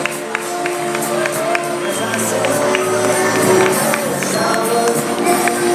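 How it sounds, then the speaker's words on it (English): A live season-finale stage show where a crowd claps and cheers for students called up onstage, steady applause with scattered whoops, an announcer's voice talking over it. "One last round of applause."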